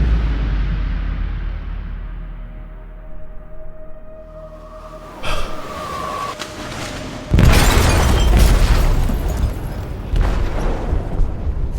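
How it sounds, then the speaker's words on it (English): An explosive detonates in a ship's hold in Detroit: Become Human. A low rumbling hum builds to a sudden, loud, deep blast with a shattering crash, then a heavy roar and clatter continue afterward. "They detonated an explosive in the hold."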